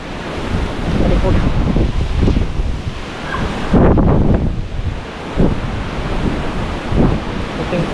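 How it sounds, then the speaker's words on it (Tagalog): Strong super typhoon wind at landfall on the Batangas coast, roaring continuously with heavy gusts buffeting the microphone and surf crashing behind, loud and close throughout. "malakas yung hangin pag gumano."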